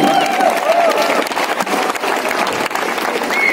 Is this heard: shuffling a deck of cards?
no